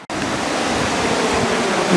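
Water rushes over a mill weir on a river in a loud, steady roar that starts abruptly and holds close and dense throughout.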